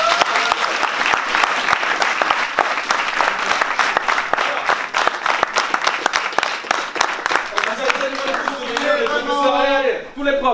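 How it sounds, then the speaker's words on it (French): Sustained applause from a large crowd, dense and steady, with cheering voices rising near the end. "je vous demande vraiment d'applaudir"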